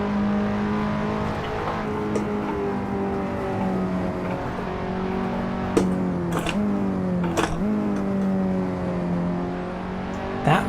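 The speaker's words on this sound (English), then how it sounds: "and you can hear the noise from the curb." Engine note of a KTM X-Bow R in Assetto Corsa on the Nordschleife, with a steady droning tone. Several short rumbling bursts come from the tyres running over a curb.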